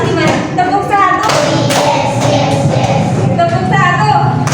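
Classroom of children clapping hands on cue, several sharp group claps in quick succession, close and loud, with voices of the class mixed in.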